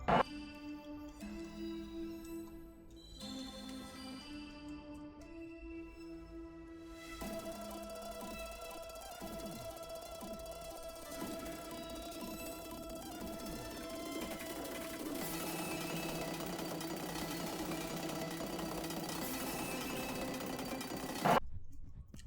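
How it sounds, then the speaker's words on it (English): A ship is welded in the video game Space Engineers, a steady mechanical buzzing and whirring that thickens and grows busier partway through, running continuously under a droning tone before cutting off near the end. "Now we'll weld it up."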